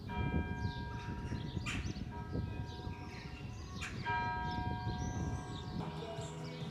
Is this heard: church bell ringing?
yes